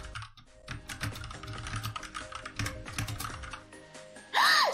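Quick, close clatter of keys typed on a computer keyboard in a steady burst, with a brief louder noise at the very end and no talking.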